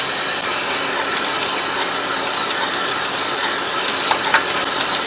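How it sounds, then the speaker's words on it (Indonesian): A coffee roaster's cooling tray and stirrer run during a robusta roast near second crack, giving a loud, steady, even mechanical whir with faint crackles now and then. "Saya nyalakan pendinginnya, siapkan pengaduk."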